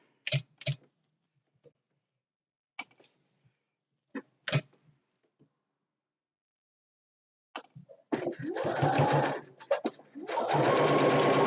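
A sewing machine stitches a fabric door hanging, starting with scattered quiet clicks and taps, then running in two steady close bursts of rapid mechanical stitching near the end.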